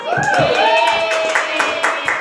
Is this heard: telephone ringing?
no